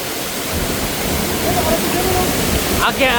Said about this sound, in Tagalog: Yung current ng tubig, ang lakas.